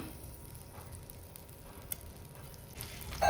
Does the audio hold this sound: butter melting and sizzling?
yes